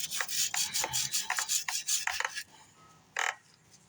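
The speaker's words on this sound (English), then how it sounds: "scrape off all the RTV." Scraping RTV sealant off the engine block of a 2022 VW Atlas, a rapid series of about a dozen close, raspy strokes, then a pause and one final short scrape.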